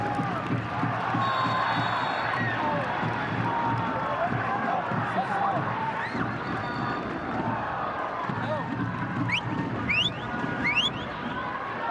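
A large crowd and student section at a college men's soccer match between Furman and Clemson fill the air with a steady roar and scattered whistles, while a commentator talks over the noise.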